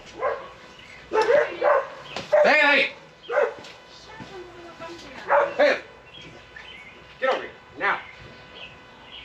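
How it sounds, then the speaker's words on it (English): Dogs bark in short, loud bursts, roughly a dozen yips and barks spread unevenly across several seconds, with a person shouting once between them. "dogs were going crazy"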